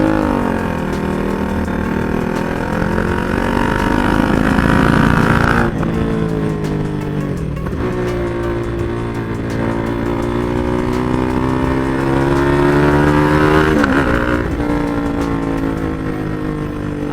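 KTM motorcycle fitted with a loud aftermarket exhaust, revved repeatedly in sustained surges with brief dips between, close and loud throughout, no talk.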